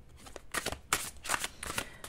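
Tarot cards shuffled and handled by hand, with quick crisp riffling bursts repeating several times in close succession, one card being drawn from the deck, no voices.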